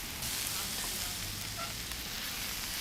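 Curry leaves added to hot oil sizzle in a pan of cooking chicken, a dense, even crackling hiss that runs steadily throughout with no talk.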